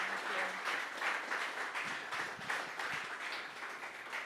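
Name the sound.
audience applause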